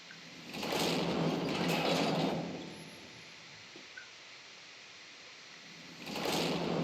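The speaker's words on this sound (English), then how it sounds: "I got the door open here." A heavy door in the video game 7 Days to Die grinds open with a long rumbling slide, then quiet hum, followed by another grinding slide starting at the end.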